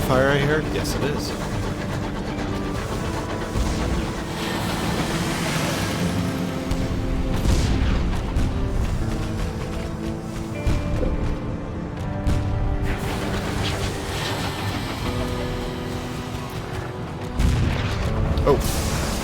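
Battle gunfire in the Sunless Skies video game: repeated booming shots and blasts rolling over a dense, loud, continuous game soundscape with layered music and engine drone.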